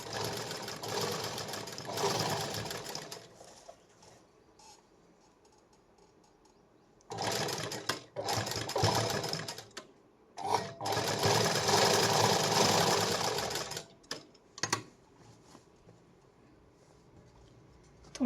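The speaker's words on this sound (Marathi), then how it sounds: "पूर्ण आपल्याला अगोदर एकदम कडेला शिलाई मारून घ्यायची" A sewing machine stitches along the edge of a blouse in several loud, close whirring runs separated by quiet pauses, with a few short bursts near the end.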